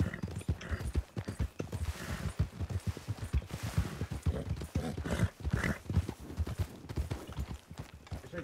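Rhythmic hooves of a video game horse clip-clopping at a steady gallop, close and loud, with the horse whinnying partway through.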